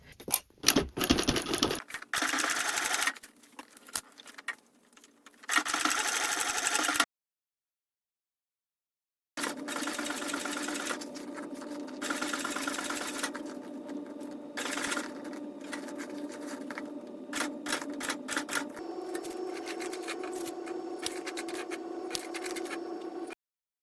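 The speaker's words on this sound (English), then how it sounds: "We're going to instead go all the way around and then overlap several stitches to lock the threads in place." A sewing machine stitches all the way around a crossbody bag, running in quick rattling bursts with short pauses and one longer silence, then a steady stretch of close mechanical whirring.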